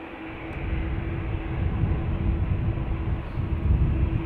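An ATR turboprop arriving from Edinburgh at Dublin Airport, a continuous rumbling engine drone with a steady propeller hum running through it, moderately loud and without voices.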